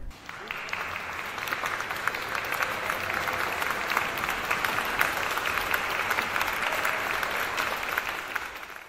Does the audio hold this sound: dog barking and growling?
no